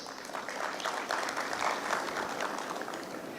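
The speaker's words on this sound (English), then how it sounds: "Mr. Amir Khan, please, a round of applause." Steady applause from a conference audience at a microfinance event, fairly dense and even throughout, with no talk over it.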